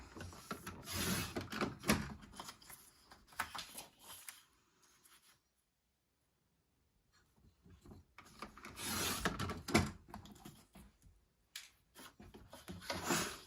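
Scrapbook paper trimmed down to an 11 3/4 by 11 3/4 inch square for a layout, with rasping, scraping cutting strokes in two close bursts separated by a few quiet seconds.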